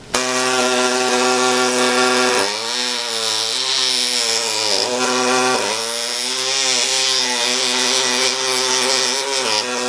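A Renfert Pillo pneumatic chisel works through an Ivobase denture flask during deflasking, giving a loud, steady buzzing rattle that runs nearly the whole time with a few short dips and surges in pitch.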